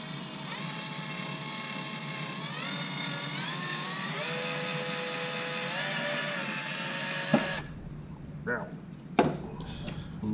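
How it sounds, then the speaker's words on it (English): A power drill bores a small hole for a portable RV mister, its steady whining motor rising in pitch partway through, running continuously for about seven seconds before stopping, followed by a few faint clicks and handling sounds. "I'm going to take my drill with my bit that's already in there"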